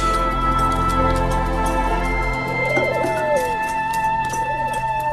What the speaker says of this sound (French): Les gentils pigeons, merci.